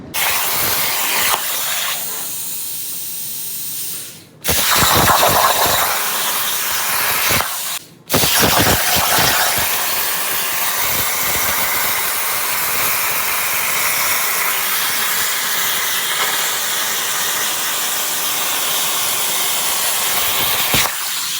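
A Langmuir Crossfire Pro plasma table cuts metal with a loud, harsh, continuous hiss. The roar cuts out briefly twice early on, then resumes and runs steadily to the end.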